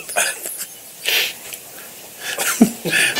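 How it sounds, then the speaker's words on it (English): A quick sneeze followed by a short cough, then another burst, close and fairly loud against a quiet background. "Ooh, a sneeze and a cough."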